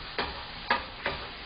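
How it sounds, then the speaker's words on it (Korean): Kkanpunggi chicken stir-fried with sesame oil: three soft, brief scraping stirs in the pan over a faint background hiss. "참기름 넣어서 빨리 볶아주세요."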